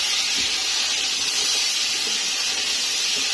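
Chicken dropped into a pan of browned garlic, ginger and onion for a vegetable chicken pulao, giving a loud, steady, continuous sizzle with no pauses.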